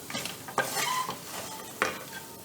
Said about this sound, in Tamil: அடுப்பை ஆஃப் பண்ணிட்டு தான் கிண்டிகிட்டு இருக்கேன்